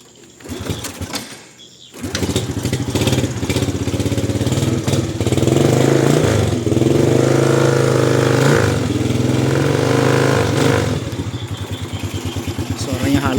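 A used second-hand motorcycle for sale: the engine catches after a quiet moment, then runs loud and close with a smooth, steady idle, swelling briefly in the middle before settling into an even putter.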